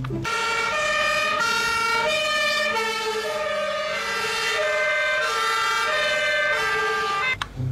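A loud electronic toy fire truck siren cycles steadily between two alternating tones, running continuously with no voices before cutting off abruptly.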